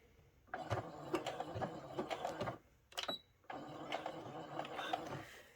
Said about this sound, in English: we're going to start back stitching at the beginning